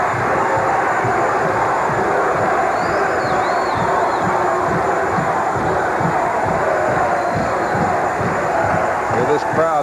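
A packed arena crowd at a mid-1980s pro wrestling match roars and chants continuously, loud and dense, with occasional shouts rising above the din.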